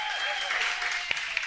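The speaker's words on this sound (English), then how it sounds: "getting a nice round of applause" A small studio audience gives brief applause for a guest arriving on a college basketball radio show, a short light patter of clapping with a couple of sharper claps and faint voices underneath.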